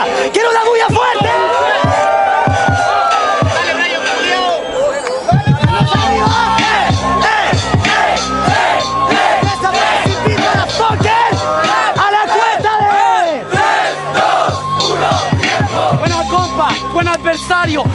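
Loud crowd at a DEM Multiverse 2019 freestyle rap battle, cheering, whooping and shouting continuously throughout, with a host's voice yelling over the din.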